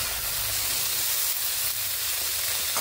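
Cauliflower florets fry in a pan over medium heat, giving a continuous, close, moderately loud hiss and sizzle that stays even for the few seconds, with no voices.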